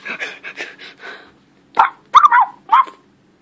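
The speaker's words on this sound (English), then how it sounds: "There's a dog!" A dog barks several times, loud and close, a few quick yips and barks with short pauses between.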